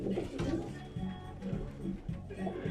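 Pigeons in a loft give repeated low, throaty coos in a steady rolling rhythm, close by, with a faint voice in the background.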